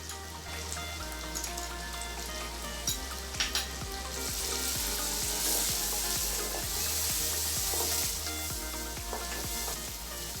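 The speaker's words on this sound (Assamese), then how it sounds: "বিলাহীখিনি অলপ গলি যোৱালৈকে ভাজি ল'ম" Chicken curry masala with tomatoes frying in a pan, a steady close sizzle with soft stirring scrapes throughout, growing louder and denser midway.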